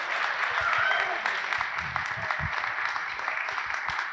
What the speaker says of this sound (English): Can we get a round of applause for Claudio, everybody?